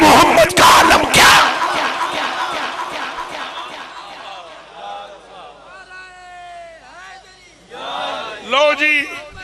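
A crowd at a religious gathering shouts a loud slogan in unison, cheering strongly for the first second or two, then falling away as a single voice carries on with melodic chanting.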